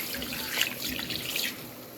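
Tap water runs steadily over shing fish being washed in a sink, a soft continuous splashing stream with slight surges, close by and without talk.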